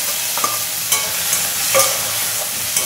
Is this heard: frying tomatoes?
yes